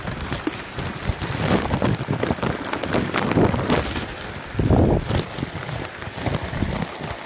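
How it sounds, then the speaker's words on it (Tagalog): Steady rain pours down with gusting wind buffeting the microphone during a typhoon, a constant noisy wash that swells louder around the middle. "lumalakas na ang ulan, mamaya hangin na ang susunod."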